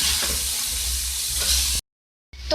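Chopped green onion and capsicum fry in a pan with a loud, continuous sizzle and crackle. The sizzle stops abruptly for about half a second and then returns.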